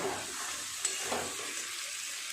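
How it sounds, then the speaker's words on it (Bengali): Sizzling chicken in spice masala hisses steadily and loudly as water is added, forming a dense continuous crackle with a couple of brief sharper spits, and no talking. "এখন দিয়ে দেব জল।"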